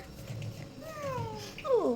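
A child imitates a cat's meow with a couple of short, rising-and-falling vocal calls, fairly quiet and heard alone.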